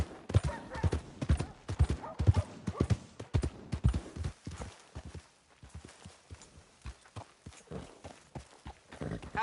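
Horse hooves clip-clopping in Red Dead Redemption 2, a steady series of close, fairly loud hoof beats on the ground that thin out and soften toward the end.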